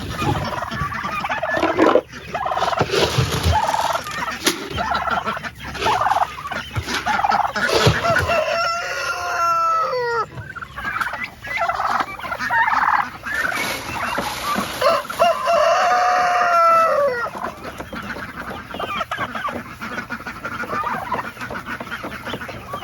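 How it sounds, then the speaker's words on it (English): A large flock of farm turkeys gobbling excitedly as someone approaches, loud overlapping rolling gobbles in repeated bursts, mixed with other fowl calls and crowing, close and continuous. "Turkeys go nuts."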